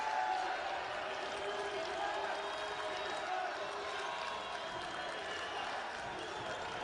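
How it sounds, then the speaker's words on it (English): A basketball arena crowd roars at a college game between Detroit Mercy and Oakland, a steady, fairly distant wash of cheering that holds level throughout, with a commentator talking over it. "The crowd to their feet."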